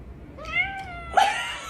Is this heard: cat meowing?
yes